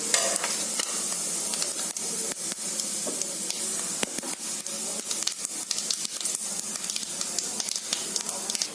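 Whole cloves, cardamom and cinnamon frying in hot oil for chicken gravy, a busy steady sizzle with frequent sharp crackles and pops, close up and continuous.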